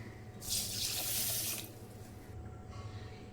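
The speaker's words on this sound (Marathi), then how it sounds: "तर आपण 4 वाटी पाणी टाकून घेऊया" Water pours from a bowl onto 600 grams of sugar to start a thin gulab jamun syrup from a Chitale premix. The single near splashing pour lasts just over a second, then fades to quiet room tone.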